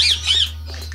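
An African grey parrot in an aviary gives two shrill rising-and-falling squawks close by, with a steady low hum underneath throughout.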